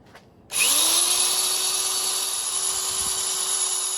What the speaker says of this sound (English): now I've got my drill with a wire brush on it